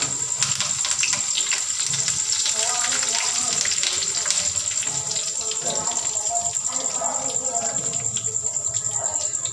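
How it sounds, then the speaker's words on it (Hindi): Curry leaves dropped into hot oil for sambhar, crackling and sizzling steadily at close range, with a steady high tone running throughout and a voice talking over the frying. "डालेंगे अब हम करी पत्ता"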